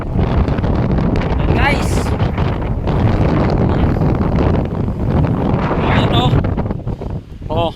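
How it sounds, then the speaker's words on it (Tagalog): Strong wind buffets the microphone on a hilltop tourist spot overlooking the sea, a loud, continuous roaring rush throughout, while someone talks briefly over it. "Sarap ng hangin oh."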